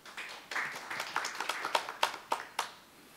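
A modest round of clapping from an audience at a robotics conference panel discussion, fairly faint and distant, thinning out into a few separate claps at the end.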